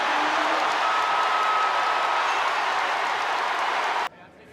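A Duke home crowd roars during a college basketball game against Georgia Tech, a steady wall of cheering from a packed arena under an announcer's commentary, before it cuts off abruptly near the end.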